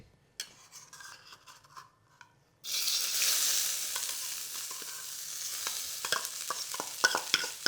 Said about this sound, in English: And then we're going to stir fry that very quickly.